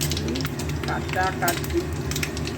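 Mixed vegetables and spinach sizzle and fry in a pan and are stirred in a steady, loud, unbroken hiss. A few faint scraping touches come through close by.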